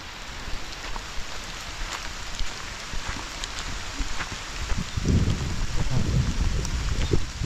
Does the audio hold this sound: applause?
no